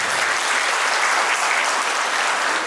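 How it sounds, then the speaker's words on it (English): Audience applause at a college graduation ceremony in Dimapur, a dense, even wash of many hands clapping steadily throughout, loud and continuous with no talk over it. "Let's all give a round of applause to Sir for sparing his time and rescheduling the day for us"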